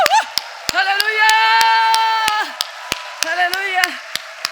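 A church congregation at a Sunday service claps in thanks, sharp hand claps landing in a loose rhythm beneath a voice calling out.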